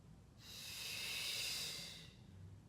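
A single long, steady exhale through the nose or mouth during a Pilates yoga fusion breathing exercise, soft and breathy, swelling then fading over about two seconds, close and alone.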